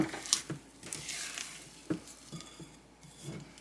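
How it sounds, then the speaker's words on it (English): A spatula scrapes around a mixing bowl of sugar cookie dough, giving soft close scuffs and light knocks in a few irregular strokes, fairly quiet. "we're just going to scrape that bowl down one more time"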